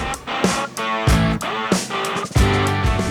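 A Honda CB750 Hornet motorcycle engine revs up and settles repeatedly in a few rising, throaty surges, loud and close, with no talking.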